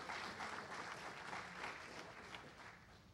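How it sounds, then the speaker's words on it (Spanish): A seminar audience applauds to welcome a presenter on used cooking oils, a steady dense wash of clapping from many hands that holds for the whole stretch without voices. "Vamos a recibirlo con un fuerte aplauso"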